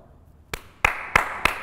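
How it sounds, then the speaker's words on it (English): Hand claps to start a take on a video shoot: four sharp, close claps, the first softer and the rest louder, spaced about a third of a second apart, with no one talking. "One go. One clap."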